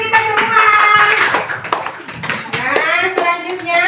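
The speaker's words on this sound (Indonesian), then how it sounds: "tepuk tangan untuk kita semua" A class of children clapping hands together in a classroom, a lively rapid burst of claps mixed with excited young voices all the way through.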